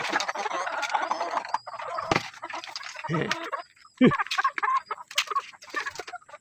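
Chickens cluck and squawk nearby while people talk over them, with a brief quiet gap before the clucking resumes.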